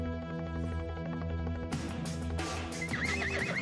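A wild stallion neighs loudly and close, a long shrill whinny that breaks into a rougher, shuddering call partway through, with hoofbeats and outdoor commotion beneath it.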